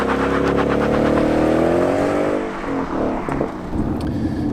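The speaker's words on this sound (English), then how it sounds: "The Supercharger makes some great noises. It whines, really adds to the pull." A 600 hp supercharged Ford Mustang with a Milltek exhaust accelerates hard, its loud engine roar climbing with a rising supercharger whine before it eases off into a lower rumble.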